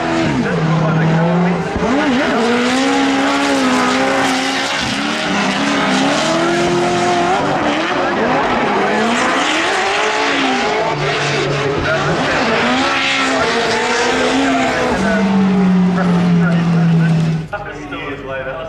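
A drift race car accelerates hard on a track as driver Brody Mayer initiates on the throttle, its engine roaring loudly and shifting pitch continuously for the whole stretch, with tire squeal and a commentator talking over it.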